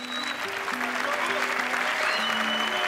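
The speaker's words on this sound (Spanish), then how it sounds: "Un aplauso fuerte para Peg Boran" Loud audience applause for Peg Boran at a live stage show, a dense sustained wash of clapping with some tonal sounds from the hall mixed in.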